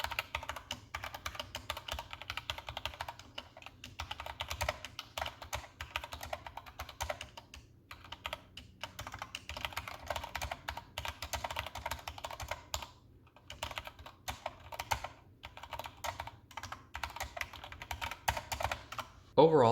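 Steady typing on an Epomaker GK61X mechanical keyboard with Gateron Red switches, soft, slightly hollow keystrokes clattering in quick continuous bursts, close up and moderately quiet.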